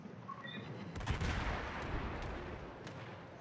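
Anti-aircraft guns aboard the cruiser Baltimore in a naval battle game fire in a continuous rumbling barrage with sharp cracks on top, steady and fairly loud throughout.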